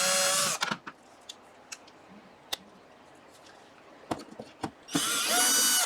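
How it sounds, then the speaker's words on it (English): A power drill bores holes into a wall with insulation behind it: a loud whirring burst at the start and another near the end, with quieter clicks and handling knocks in between. "So I got the bigger drill bit and realized I needed a smaller one."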